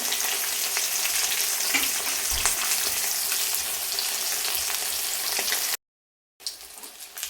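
Pieces of rohu fish fry in hot oil in a home kitchen, a steady close sizzle and crackle with occasional spatters, briefly cut to silence before resuming.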